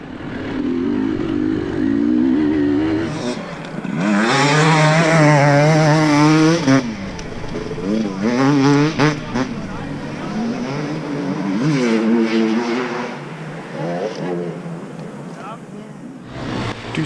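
Dirt bike engines in a NETRA off-road race, an XR 200 motorcycle passing up the inside, with loud revving engine tones rising and falling and shifting pitch as the bikes accelerate nearby.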